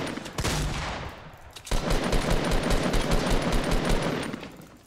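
Rapid automatic gunfire from the video game Fortnite rattles in dense, loud bursts, pausing briefly before a second sustained volley of fast shots.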